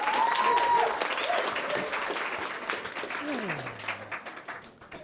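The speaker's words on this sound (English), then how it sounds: "Let's give him a big round of applause." Studio audience applauding a comedian walking on stage at a Google-themed stand-up comedy show, loud at first then gradually tapering off, with some cheering and a voice in the mix.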